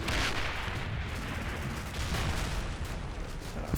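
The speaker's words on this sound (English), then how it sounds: "howitzers still keep falling" Howitzer artillery shells falling in the Combat Mission: Battle for Normandy war game, a dense rumbling barrage of overlapping distant blasts and crackling impacts, steady and moderately loud without speech.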